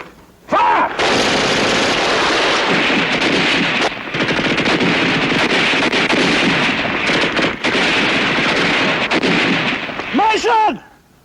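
Sustained gunfire fills a battle scene from the TV war drama Combat!, with loud continuous machine-gun and rifle bursts, brief pauses, and a shouted voice at the start and end.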